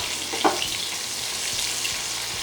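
Onions frying in a pan alongside a bay leaf give a steady, even sizzle, close and moderately loud, with one brief sharper crackle near the start and no talk over it.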